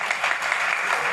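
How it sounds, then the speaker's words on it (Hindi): Brief burst of applause for a mathematics teacher at a farewell party, an even wash of many hands clapping throughout, moderately loud and without pauses. "उनके लिए बहुत सारी तालियां"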